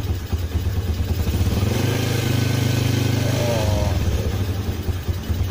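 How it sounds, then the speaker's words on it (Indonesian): A Yamaha Jupiter Z motorcycle engine revs up from idle, rising into a sustained loud roar that holds for a few seconds before settling back down, recorded close by in a workshop with no voices. "Coba kita gas ya."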